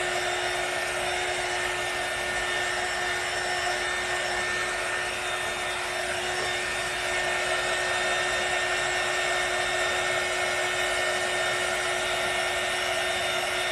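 A heat tool blows a constant, loud, steady stream of air while drying a layer of paint on a craft sign, humming unbroken from start to finish with no speech.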